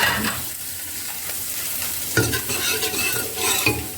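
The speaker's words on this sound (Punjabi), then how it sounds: "ਅੱਜ ਤਾਂ ਸਿੰਪਲ ਜਿਹਾ ਤੜਕਾ ਲਾਇਆ" Hybrid moong lentils sizzle and crackle steadily in a hot pan of tempering, with a few louder spatters and stirring scrapes, close and alone without talk.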